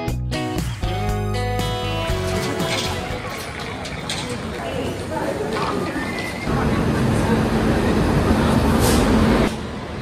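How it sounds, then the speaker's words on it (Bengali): Train sounds at New Jalpaiguri railway station, with a loud rumbling, clattering rail noise and a crowd hubbub underneath; people talk throughout. "বন্ধুরা এসে গেছে নিউ জলপাইগুড়ি রেলওয়ে স্টেশন"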